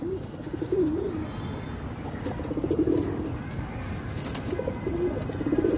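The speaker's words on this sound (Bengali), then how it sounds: "ব্রিডিংয়ের কবুতর আছে আমাদের কাছে।" Breeding pigeons cooing in soft, repeated rolling phrases, close by and fairly steady throughout, with no talk over them.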